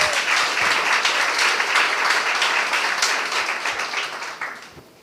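An audience applauds at a chat event about youth business awards in KwaZulu-Natal, a full burst of clapping that holds steady and then fades out over the last second.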